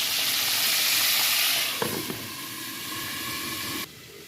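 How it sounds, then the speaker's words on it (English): Chicken pieces coated in flour frying in a pan, a loud, steady sizzling hiss up close that softens partway through, with a couple of brief clinks and then a sudden drop in the hiss near the end. "And here's how the other chicken frying."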